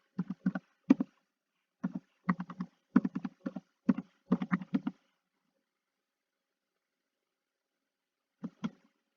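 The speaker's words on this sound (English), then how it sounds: "For the chart title, let's type" Keys clatter on a computer keyboard as a chart title is typed, several quick bursts of crisp taps, then a pause and a final short burst, quiet and close with no talking.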